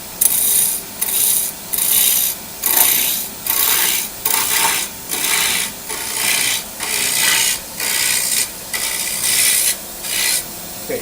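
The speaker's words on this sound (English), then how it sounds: "turn the gouge around so that I can follow the bevel down into the wood" A wood gouge cuts into a spinning bowl blank on a lathe, giving repeated rasping, scraping passes in a steady rhythm of about a dozen strokes with brief pauses between, close and fairly loud, with no talk.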